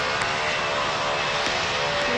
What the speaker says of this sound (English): That was a great takeoff.